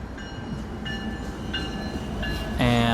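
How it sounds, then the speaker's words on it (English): A train approaches and comes to a stop, with rail rumble and repeated tonal squeals or chimes building louder toward the end, a strong sustained tone arriving near the close. "the train approaches"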